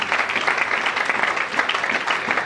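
Steady applause from a congregation fills a church service, a dense, even patter of many hands clapping that holds at the same level throughout, with no voices standing out.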